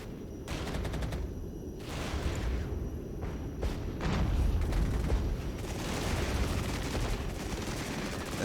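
Artillery and gunfire from a battle in the real-time strategy video game Regiments, with cluster bombs among the strikes: dense, continuous rumbling bursts and overlapping booms that swell louder partway through and carry on without pause.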